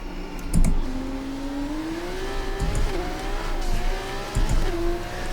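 An F2 car's engine in F1 24 at the Canada circuit revs hard under acceleration, its rising whine climbing steadily through the gears, loud and close with no talk.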